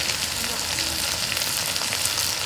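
Spices including turmeric and salt fry in a pan for a silver carp curry: a dense, loud, unbroken sizzle close by, with no talking over it.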